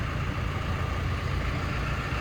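A new 2024 Basak 110 tractor's engine rumbles steadily close by as the tractor drives out, a low, even drone with no voices over it.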